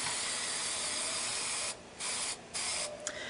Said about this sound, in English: Make sure you spray off your cans before you use them.